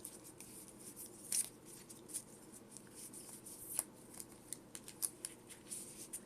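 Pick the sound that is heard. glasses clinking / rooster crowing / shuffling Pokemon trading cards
shuffling Pokemon trading cards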